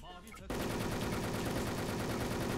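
Shotgun fire in the online shooter Wolfteam, with every slot holding a pump shotgun: after a brief quieter moment, a dense, loud, unbroken barrage of gunfire fills the rest of the clip.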